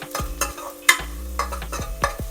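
Cumin, pepper and garlic powder roasting on low heat in a pan for obbattu rasam, with a spoon scraping and stirring in repeated quick strokes over a faint sizzle, close and clear, no talking.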